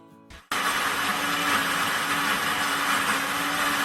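An Ace Plus blender motor kicks on abruptly after a short quiet moment and runs at a steady, loud, high-speed whir while blending a smoothie, with no voices over it.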